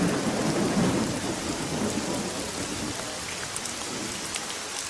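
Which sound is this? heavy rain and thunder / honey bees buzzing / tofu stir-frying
heavy rain and thunder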